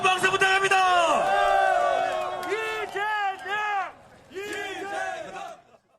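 A crowd at a Democratic Party political rally in Korea cheers and chants in rising, rhythmic shouts, loud and close, in repeated waves with brief pauses between bursts of voices.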